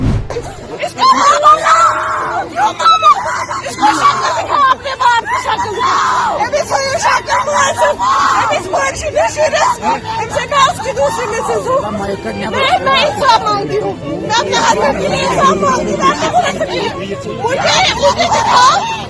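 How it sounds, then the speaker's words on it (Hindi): A woman holding a child cries and screams for justice amid a loud, agitated crowd hubbub, with overlapping shouting voices and wails throughout. "बीबी गोद में बच्चे को लिए इंसाफ की पुकार लगा रही है, चिल्ला रही है, रो रही है, चीख रही है"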